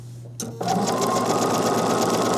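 A sewing machine runs steadily at close range, stitching around a zipper on the back panel of a pillow; a brief start-up precedes a continuous loud whirring hum.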